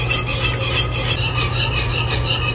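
A whisk scrapes rhythmically across a pan of copycat KFC gravy on a medium burner, making quick, close, even swishing strokes with no talk.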